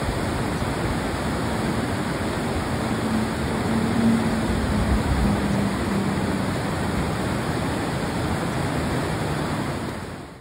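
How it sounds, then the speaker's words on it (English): River rapids on the Deschutes River at a river-surfing spot make a loud, steady rushing roar of churning whitewater that holds unbroken for about ten seconds, with no voices. "river surfing, which is what we have here in the Deschutes River"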